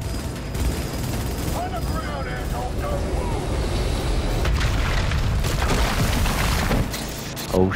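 A flashbang grenade goes off during a Cyberpunk 2077 firefight, a loud booming burst followed by dense, sustained rumbling and gunfire-like crackle that persists throughout, with voices heard over the din.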